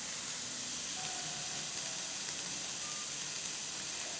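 Gooseberry rice mixture sautés in a pan, giving a steady, even hiss of gentle frying that stays constant throughout.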